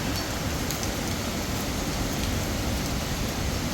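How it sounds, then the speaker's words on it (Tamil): Heavy rain pours down steadily, a dense, continuous roar of drops with no pauses and no voices. "வெளியே பாருங்கள் நல்ல மழை கொட்டுது."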